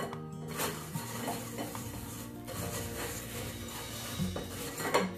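Homemade browned sugar (tagar) is sifted for sweets as a quiet, continuous rubbing rasp with a few faint metallic taps from the sieve, close and soft, with no talking.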